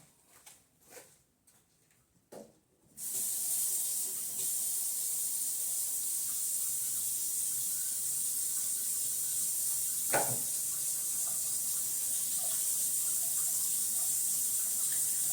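A tap runs in a sink while rose-scented soap is lathered on hands, a steady close hissing stream starting after a few seconds of soft handling sounds and continuing evenly, with one brief knock partway through.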